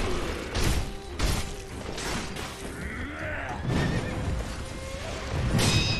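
A horse in the action game Sekiro neighs and whinnies amid hoof clops, clanking mechanisms and battle noise, loud and close across several seconds with repeated bursts.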